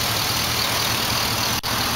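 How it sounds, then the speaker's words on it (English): A 2005 Chevy SSR with a 6-liter V8 engine runs steadily at idle, a close, even low rumble with a faint high whine above it and one brief dip near the end. "It sports a V8 6-liter engine that produces approximately"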